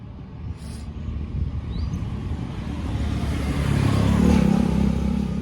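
Cars and other motor vehicles pass along a village road in steady low rumbling traffic, the engine noise swelling louder toward the end, with no speech.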